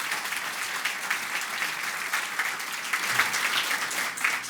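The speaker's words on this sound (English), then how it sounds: "so a big round of applause for you all" Sustained applause from an audience at a USF Health College of Pharmacy announcement event, dense steady clapping filling the room with no pauses and no talk over it.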